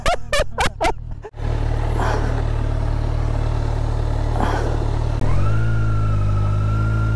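A Kawasaki Versys 1000 SE motorcycle rides off-road near Dolores, Quezon, its engine holding a steady, loud drone with a couple of revving swells. A shift in pitch comes near the end after a few sharp knocks at the start.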